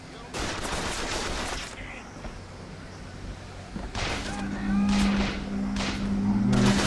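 Enemies firing shotguns in the video game Bioshock Infinite: loud bursts of gunfire in several separated volleys, with engine-like hum and tonal game sounds between them.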